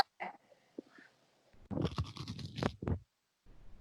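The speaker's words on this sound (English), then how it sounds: "I heard the crunch from over here." Biting into crunchy food topped with purple onion gives a few brittle crunches close to the mic: small crackles first, then a louder, denser burst of chewing crunches, followed by quiet.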